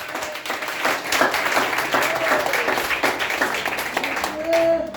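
A church congregation claps during a revival sermon. The applause is loud and sustained, with dense overlapping claps and a voice audible through it.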